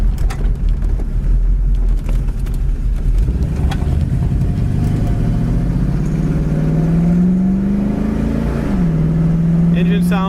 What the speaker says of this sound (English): Engine sounds good, exhaust sounds good.